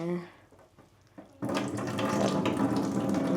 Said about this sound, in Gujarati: એમાં થોડુંક પાણી નાખી અને પાછું ધોઈ નાખું બટેટાને